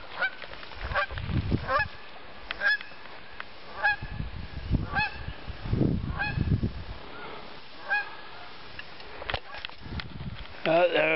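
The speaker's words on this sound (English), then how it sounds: "Oh, there was a little goose there, and he flew off." A small goose honks repeatedly in wetlands beside ponds along a hiking trail, loud calls in bursts, followed by wingbeats as it flies off, with footsteps and low speech in between.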